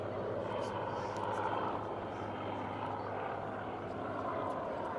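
A Supermarine Spitfire with a Rolls-Royce Griffon engine flies by at a bay airshow, a steady low droning roar heard from a distance with light background noise.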